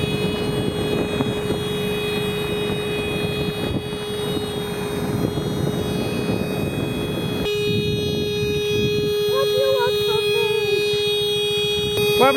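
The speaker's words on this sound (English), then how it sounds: "Different horn. Definitely the horn." A motorcycle horn honks out on a deserted winter road, a loud sustained tone that cuts off partway through and returns in a thinner, changed pitch over a rumbling engine and wind.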